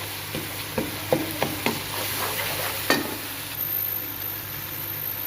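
Masala frying in a pan for a chicken and bottle gourd dish, a steady close sizzle broken by several sharp spoon scrapes and clinks against the pan.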